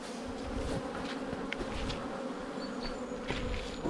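Honey bees buzz around an opened hive during artificial swarming, a steady, close, continuous hum with no other sound.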